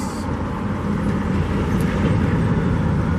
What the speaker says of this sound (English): Just one after another, all these trucks.